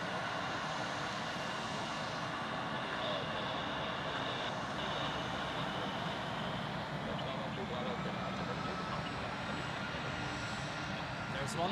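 A jet airliner departs on runway 28 at Zurich airport, its steady engine roar filling the scene from a distance as it climbs away, with people talking faintly over it.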